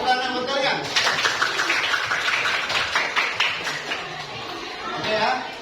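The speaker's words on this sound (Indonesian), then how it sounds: "Tepuk tangan buat kalian." A school class clapping hands, a burst of many claps that starts suddenly, keeps up for a few seconds and then thins out, with children's chatter mixed in.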